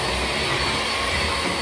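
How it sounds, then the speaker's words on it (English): A Hoover ONE cordless battery vacuum cleaner runs steadily and loudly throughout, a constant broadband whoosh with no talk over it. "we're gonna vacuum this up with a Hoover 1 power"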